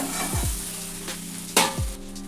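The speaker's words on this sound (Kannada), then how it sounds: "ಇವಾಗ ಪುಳಿಯೋಗರೆಗೆ ರೈಸ್ ಹಾಕೋತೀನಿ." Cooked rice is tipped into a sizzling puliyogare tempering and stirred, with a steady close frying hiss broken by a few scraping strokes and a louder clatter midway.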